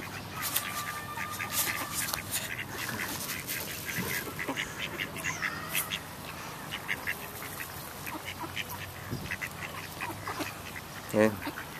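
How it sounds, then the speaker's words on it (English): Ducks quack intermittently while being fed outdoors near a little league baseball game, the calls moderately close over a steady low background with brief murmured voices. "as I'm here feeding the ducks"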